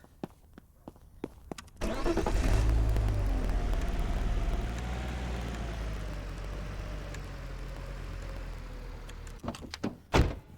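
A car in the Car Dealer Simulator game starts up and drives away: the engine catches abruptly, holds a steady hum with a slowly rising tone, then eases off before a few door clunks close the sequence.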